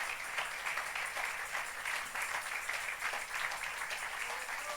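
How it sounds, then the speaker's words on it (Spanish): Sustained applause from a church congregation, a steady, dense wash of clapping through the whole stretch with no voices standing out. "Le damos un fuerte aplauso"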